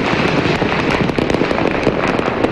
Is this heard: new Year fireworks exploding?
yes